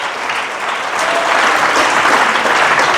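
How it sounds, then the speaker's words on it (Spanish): Loud, sustained applause from a church congregation during a Sunday service, a thick wash of many hands clapping that swells slightly and carries on steadily. "Denle un fuerte aplauso a Cristo"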